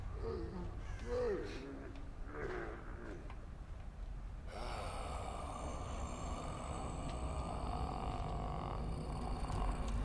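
Ravens in The Evil Within 2 give harsh caws in the first few seconds, breaking up a low ambient rumble. After that a denser, broadband game soundscape takes over.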